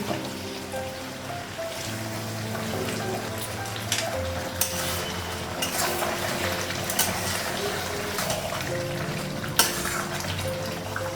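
Meat and potatoes sauté in a pan, giving a steady sizzle with occasional sharper spatters and stirring scrapes, while soft tonal background sound runs underneath throughout.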